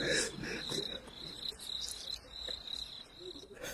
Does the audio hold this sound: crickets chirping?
yes